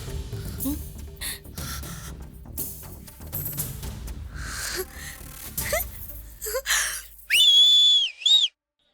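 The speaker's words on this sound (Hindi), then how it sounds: "किसने बजाई है सीटी?" A whistle is blown at a wedding scene in a dubbed action film, two loud shrill blasts near the end that follow a noisy stretch of crowd sounds and voices.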